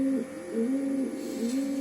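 A pigeon in a loft coos steadily through a series of low, rolling calls that sit close and clear, with no talk over them.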